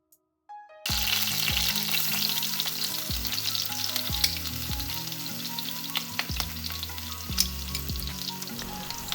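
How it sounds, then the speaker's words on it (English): Garlic drops into melted butter and immediately sizzles loudly in the pan, a continuous frying crackle under a steady musical backing, starting abruptly after a brief quiet moment. "Drop the garlic in."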